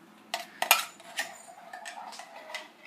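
A metal spoon scrapes and clinks against the inside of a soup pot, a few sharp taps followed by lighter scraping strokes, close and fairly quiet with no voices.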